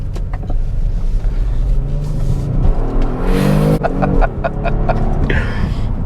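A 2022 Kia Stinger GT1 with 368 horsepower accelerating hard, its engine rising in a loud rumbling roar with gear changes and road noise from inside the car.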